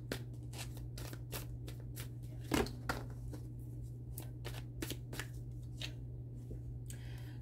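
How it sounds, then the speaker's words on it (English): Oracle cards being shuffled by hand: a run of quick, crisp riffling and flicking bursts in an uneven rhythm, close and fairly quiet over a steady low electrical hum, with no talking. "let's get some oracle cards and see what they will want to say"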